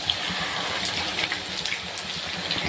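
Wheat flour chips frying in hot oil, a steady soft bubbling sizzle with faint crackles throughout, fairly quiet and continuous.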